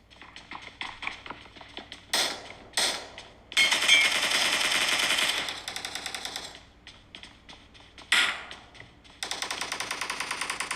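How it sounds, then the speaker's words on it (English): Bursts of rapid video game gunfire and single shots crackle through iPhone 13 Pro Max speakers, alternating with brief quieter gaps, fairly loud and tinny with no talking. "you can hear all those gunfires and shots"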